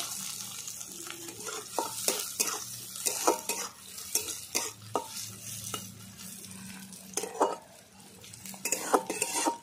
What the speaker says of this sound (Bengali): কুচি করা রসুন, পেঁয়াজ কুচি আর লঙ্কা একসঙ্গেই দিয়ে দেবো। সব ভালো করে আমি ভেজে নেব